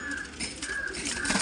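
Pigeons of a fancy breed kept in a loft set coo in a short, close burst, a soft rolling call repeated over a breathy background.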